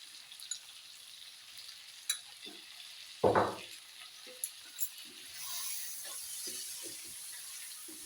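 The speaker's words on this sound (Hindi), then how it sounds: "अब मैं इस मसाले और सब्जियों को 5 मिनट के लिए भूनूंगी।" Spices and vegetables fry over a low flame for a rohu fish curry, a soft, even sizzle that swells in the second half, with scattered spoon taps and one louder knock against the pan.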